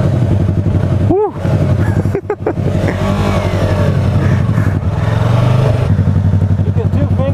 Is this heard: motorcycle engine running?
yes